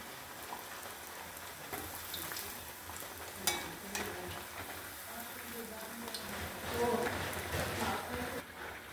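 Chakka vada, jackfruit fritters, frying in hot oil with a steady, close sizzle and crackle. A few louder pops and stirring sounds come through while a voice speaks over it.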